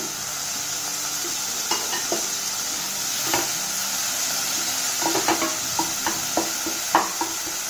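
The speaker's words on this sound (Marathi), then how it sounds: "आता हे आपण 2 मिनिटं परतत राहूया जोपर्यंत आपला टोमॅटो मऊ होत नाही" Chopped tomatoes, onion and green chillies sautéing for upma in a pan over low heat, with a steady soft sizzle and scattered scraping stirs, and no one talking.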